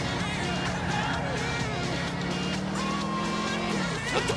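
A Sentinel XS in GTA IV is driven hard at speed, its engine droning steadily close-up while tires squeal and skid briefly near the end.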